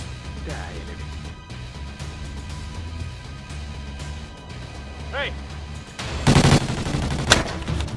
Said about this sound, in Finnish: kun Sigmund ampuu, sitten lähdetään